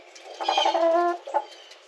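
American Bresse chicken clucking close by: a drawn-out, tonal run of clucks followed by a shorter cluck after a pause, with no talking.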